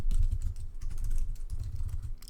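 Rapid, uneven keystrokes on a computer keyboard as a username is entered into a React registration form, close and continuous with no talking.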